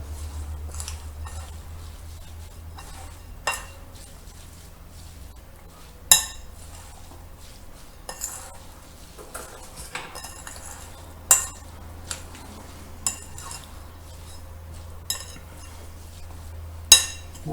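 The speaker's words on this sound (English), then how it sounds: "Stir it up." Chimichurri ingredients with oil are stirred in a dish, bringing sparse, sharp clinks and taps of a utensil against the dish at irregular intervals over a quiet, steady hum.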